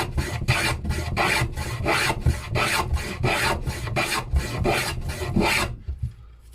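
A sharpened block plane bevels the edge of a wooden seat on a child's step stool. About a dozen even, rasping strokes follow one another in a steady rhythm, close up, and then stop.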